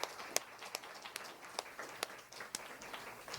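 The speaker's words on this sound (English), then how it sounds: "Everybody give Chelsea a round of applause." Audience applause for comedian Chelsea at a live comedy theater, scattered sparse claps at a moderate distance that rise and fade without voices.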